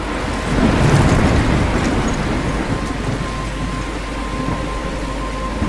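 A thunderstorm with heavy rain in the video game Life Is Strange: dense, steady rainfall over a low rumbling roll of thunder that swells early and then settles into a constant wash.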